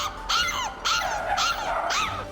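A pack of stray dogs near a children's playground barks in four loud, close bursts, evenly spaced with short gaps, and no voices are heard.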